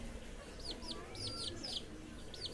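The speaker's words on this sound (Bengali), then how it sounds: "তো এই হলো পৃথিবীর এই যে সবচেয়ে ছোট মুরগির বাচ্চা" Tiny Serama chick, the world's smallest chicken breed, gives a run of short, high-pitched peeping chirps in quick clusters, fairly close, over a low steady background hum.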